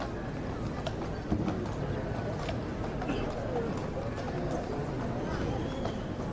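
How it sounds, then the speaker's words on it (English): Horses' hooves clip-clop along a city street during a royal funeral procession on the Royal Mile, faint and steady beneath a broad murmur of crowd and background voices. "you could even hear the clip-clop of the horses coming as the procession made its way down the street"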